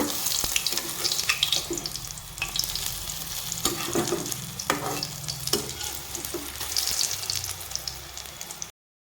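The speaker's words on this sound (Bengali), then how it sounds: "সবগুলো বড়া ভাজা হয়ে গেছে নামিয়ে নিয়েছি" Egg fritters fry in oil that sizzles and bubbles steadily in a pan with occasional scraping clinks, close up, until it cuts off abruptly near the end.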